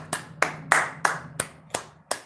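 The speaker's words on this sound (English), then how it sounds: "I'm going to clap my hands for Miss Miley Cyrus for being humble." A radio host claps his hands seven times, close and crisp, in a slow, slightly uneven rhythm against a faint low hum.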